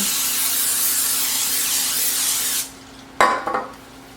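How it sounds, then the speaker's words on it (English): A steady hiss of cooking spray runs for a couple of seconds and cuts off, followed by a brief clatter as the pan is set down. "Oh, I also need to spray my pan."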